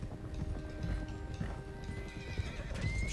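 A loose stallion in Red Dead Redemption 2 whinnies and neighs while hooves clip-clop steadily close by, the rhythmic footfalls continuing under the calls.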